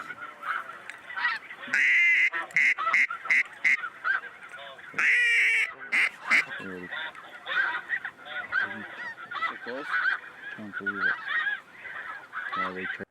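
Waterfowl calling loudly and close during a September hunt, with repeated honks and quacks in quick bursts, some overlapping, over a quiet background.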